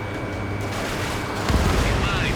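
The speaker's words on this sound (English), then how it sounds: "Missile away." A missile launches from a fighter jet in the Ace Combat 7 flight game, a sudden loud rushing burst rising out of a steady, roaring engine drone midway through.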